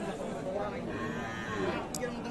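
A cow mooing at a village cattle market, a low drawn-out call close by, with faint crowd chatter behind it.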